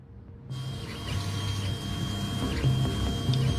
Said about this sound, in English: Take, for instance, the 3D printer.